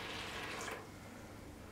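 Half a litre of water pours into a mixing bucket with a soft, close splashing hiss that cuts off partway through, leaving quiet room noise.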